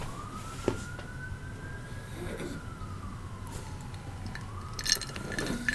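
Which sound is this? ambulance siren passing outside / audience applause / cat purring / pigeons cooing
ambulance siren passing outside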